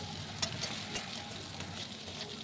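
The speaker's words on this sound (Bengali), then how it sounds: "ওই তেলে বেগুনগুলো ভেজে নিচ্ছি।" Eggplant pieces frying in mustard oil in a pan: a soft, steady sizzle with occasional faint stirring clicks, fairly quiet and without voices.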